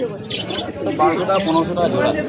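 Pigeons coo softly at the busy Sarenga pigeon market in Howrah, with faint chirps mixed in, under close conversation between a buyer and a seller.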